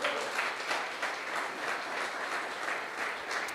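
Congregation clapping during a church service, a steady dense applause with faint rhythmic pulses, moderately close and continuous without voices.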